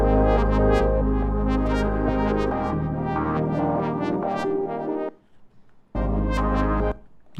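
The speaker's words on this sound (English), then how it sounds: "So that with that initial synth layer sounds like this." A Serum 2 synth layer pushed through tube distortion plays bright, sustained chords with rhythmic stabs and a strong low end, breaking off briefly near the end before one more chord.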